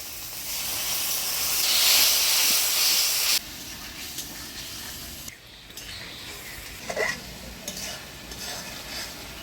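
Turmeric spice paste with salt sizzling in a pan as a little water goes in, a loud hissing burst of steam that abruptly drops to a quieter, crackling simmer with occasional stirring scrapes, in a village-style kitchen.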